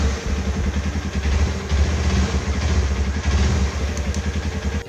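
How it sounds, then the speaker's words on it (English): A Runner Turbo 125 motorcycle engine idles steadily nearby, a rapid clattering mid-pitched putter with a very even, barely fluctuating rhythm, alone without talk. "One thing I like most that its engine idle RPM fluctuates"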